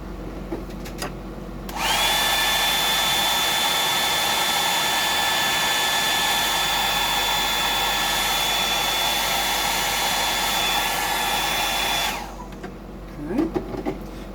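Hair dryer blowing on a freshwater fishing lure, starting abruptly and holding a loud, steady whine with a thin high tone for about ten seconds, then cutting off, close and alone.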